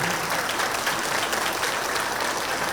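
Applause fills a hall at a Chalo Charminar vegetarian rally, a dense, even wash of clapping from a crowd that holds steady throughout.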